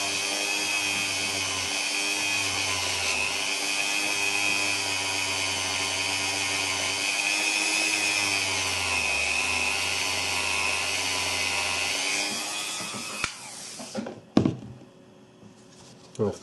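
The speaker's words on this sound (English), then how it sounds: "So we'll just take our Dremel again and polish that out." A Dremel rotary tool polishes out a mark with a loud, close, steady high whine that holds for about twelve seconds, dips slightly in pitch under load, then spins down, followed by a few scattered clicks and handling knocks.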